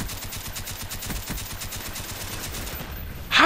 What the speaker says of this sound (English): How many bullets did that guy take? Of a freaking M60.